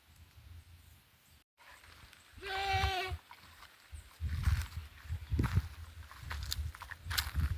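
Goat bleating outdoors on a nature walk, a single wavering call near the middle, followed by rustling footsteps and brushing sounds moving through vegetation.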